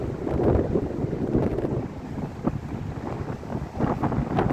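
Gusty wind buffets the microphone, a rumbling, fluctuating roar with occasional stronger bursts, in drizzle by the remains of the railway bridge over the Rhine at Wesel.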